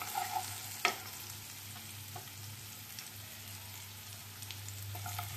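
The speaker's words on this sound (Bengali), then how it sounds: "এই রসুনটাকে খুব ভালো করে ফ্রাই করে নেব।" Crushed garlic fries in hot oil with a soft, continuous sizzle, close but fairly quiet, marked by a sharp clink of a utensil early on and a few light taps as it is stirred.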